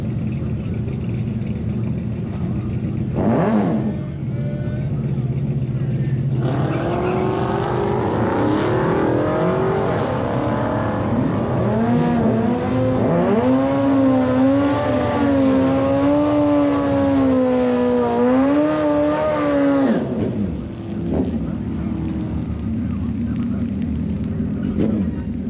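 A Suzuki Hayabusa street/strip motorcycle makes a drag strip pass: a loud engine screams with rising, whining pitch that climbs and shifts through the gears for about fourteen seconds, then drops away into background track noise.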